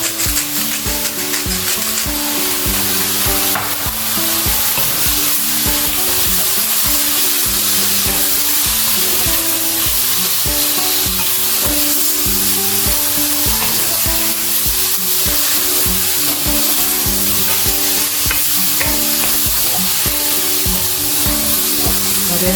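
Spicy pepper sauce ingredients with cayenne pepper and salt sauté in a pan, giving a steady, loud sizzle mixed with stirring scrapes throughout, with no talking.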